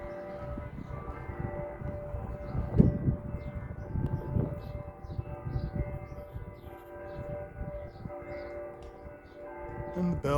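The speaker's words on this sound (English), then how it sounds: "And the bells are still ringing" Bells ring in Marfa, Texas, a sustained tonal ringing with lingering hum, moderately distant and fairly faint, beneath ambient outdoor noise and a few scattered sounds.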